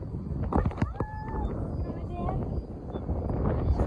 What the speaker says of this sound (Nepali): यहाँ चाहिँ मस्त हावा चलेको